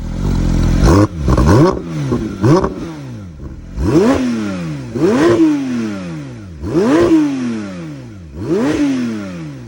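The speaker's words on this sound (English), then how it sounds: "let's start this 4-liter Boxer 6 up and hear how she sounds" A 4.0-liter flat-six in a 2022 Porsche 911 GT3 Touring (992) starts up and then gives a series of loud, sharp exhaust revs, each climbing and falling away. The blips come at a steady rhythm, close to the car, with no talking.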